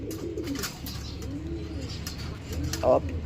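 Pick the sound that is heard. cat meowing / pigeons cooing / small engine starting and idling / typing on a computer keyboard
pigeons cooing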